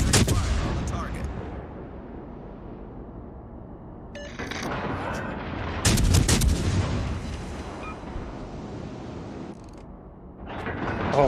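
Naval guns boom in World of Warships Legends, heavy broadband blasts with rumbling tails that swell and fade in overlapping waves, loud and close, with a low hum of game sound underneath.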